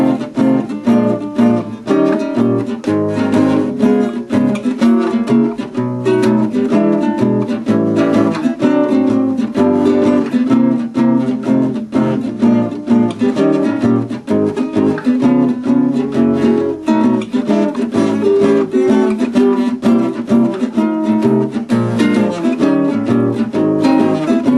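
A guitar runs through seventh chord inversions, strummed and sounded one chord after another in a dense, steady stream for more than twenty seconds, clear and close with no talk.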